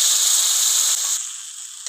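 Ground tomato paste hitting a hot pan gives a loud, steady hiss that slowly fades over about two seconds, with no talking.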